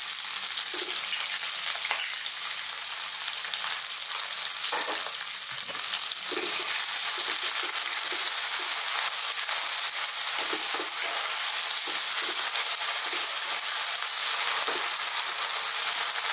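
Steady loud sizzle of onions and garlic ginger paste frying over fairly high heat in a pan for a chickpea spinach curry, a dense continuous hiss with occasional stirring scrapes and no talk.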